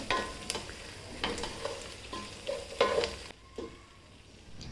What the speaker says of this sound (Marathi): मसाले चांगले परतून घ्यायचे कोथंबीर घालून घ्यायची एक चमचा बाजरीचं पीठ घालायचं चांगलं परतून घ्यायचं